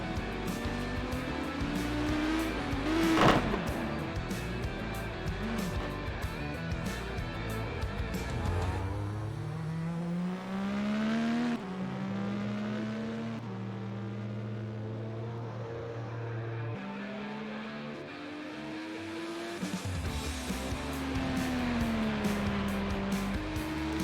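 An IndyCar race car at Watkins Glen in a racing video game revs loudly and continuously, its engine pitch climbing and dropping through repeated gear shifts with no talking.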